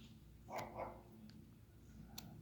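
A small dog gives two quick muffled barks a short distance away, then one faint yip, over a low steady background.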